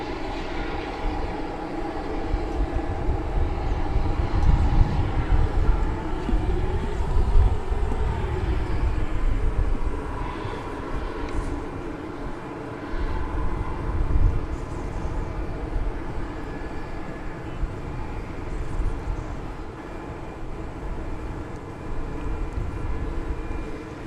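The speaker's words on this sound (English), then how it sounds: "747 about to take to the skies. It's just backing out of its berth here at the UPS headquarters." A UPS Boeing 747-8 pushes back from its berth at night, a steady low jet engine rumble and whine that stays fairly constant throughout, heard at a moderate distance with no talk.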